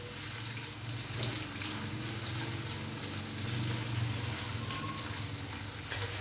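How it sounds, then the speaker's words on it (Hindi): Finely chopped onions fry with whole spices in a pan for a fish curry, giving a soft, steady hiss and crackle at low volume with slight swells, and no speech. "प्याज को 3 से 4 मिनट के लिए फ्राई करेंगे ताकि प्याज थोड़ा सा नरम हो जाए"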